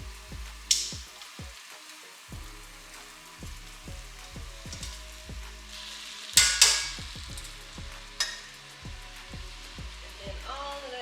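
Garlic veggie marinara sauce simmers in a pan, thick bubbles plopping and popping at an irregular pace up close, with a few sharper spattering bursts.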